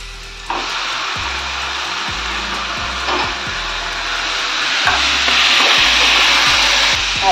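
Chicken pieces being stirred with masala in a pan for egg rolls, a spatula scraping and knocking in a loose rhythm over a loud, steady sizzle that swells toward the end, close by and without speech.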